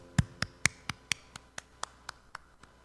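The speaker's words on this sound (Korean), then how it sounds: "우리 하나님께 감사와 영광의 박수 올려드리겠습니다." Hands clap slowly and evenly in a children's church service, about eleven distinct claps in a steady rhythm that fade slightly, sounding like a single person or a small group close by.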